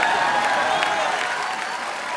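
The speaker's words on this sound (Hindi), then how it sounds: "उनके लिए जोरदार तालियां।" Studio audience on a televised comedy show gives loud, sustained applause, a dense wash of clapping that holds steady for a couple of seconds and tapers slightly at the end.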